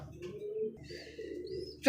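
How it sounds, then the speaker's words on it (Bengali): Pigeons kept for sale coo softly and close by in low, rolling phrases, and a brief noise comes at the very end. "এখানে একজোড়া দেখতেছি এটা গররা কবুতর"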